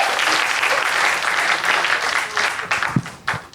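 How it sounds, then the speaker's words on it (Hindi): Loud, dense applause from a live audience at a Hindi shayari poetry recital, continuous clapping that thins toward the end as a few louder claps stand out. "तालियां बजाते रहिए"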